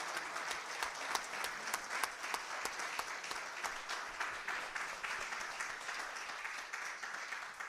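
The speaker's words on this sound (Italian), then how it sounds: "propongo un ultimo applauso" An audience applauds at the close of a lecture, a steady patter of many hands clapping throughout, moderately loud and even, with no voices over it.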